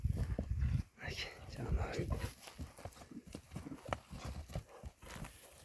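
A Kyrgyz horse walks nearby, its hooves clip-clopping in an uneven rhythm on the ground while people talk over it.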